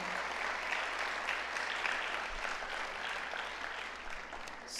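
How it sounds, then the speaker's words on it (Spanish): A church congregation applauding during a Spanish-language sermon, a dense, continuous roar of clapping that holds steady throughout without speech. "este aplauso es para usted."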